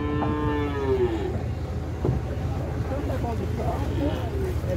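Cattle moo at a traditional livestock fair in São Benedito, Ceará, one long clear moo rising over crowd murmur and people talking, followed by fainter lowing in the busy background.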